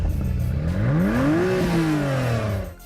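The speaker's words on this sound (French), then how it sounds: "a ainsi fait ses premiers tours de roue sur scène, accompagné du grondement de son moteur biturbo" Acura NSX hybrid with a twin-turbo engine, driven on a motor show stage in Detroit: a loud engine rumble that rises in pitch, holds, then falls as it revs, with some clatter and hall noise around it.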